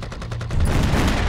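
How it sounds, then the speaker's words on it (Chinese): Dense gunfire in a war film, a burst of rapid shots that starts sparse and swells into continuous loud fusillade, like machine guns firing together, with no talk over it. "这不一直有枪声吗？"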